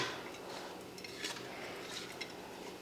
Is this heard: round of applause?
no